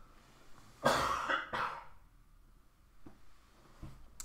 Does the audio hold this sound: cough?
yes